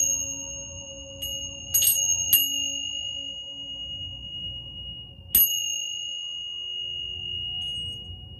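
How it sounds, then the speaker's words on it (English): Tibetan chimes ring out in a few bright strikes, each leaving a long, clear sustained tone that slowly fades in a quiet room. "So let's start off with Tibetan chimes."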